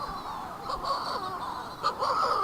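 Shearwaters call around an island nesting colony at night, giving a steady, overlapping chorus of harsh, croaking cries with a few louder calls rising out of it.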